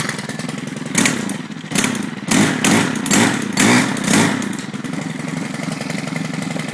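A Stihl FS130R string trimmer engine runs close by, a steady buzzing drone with several sharp throttle revs swelling and dropping in quick succession, then settling back toward a rough idle.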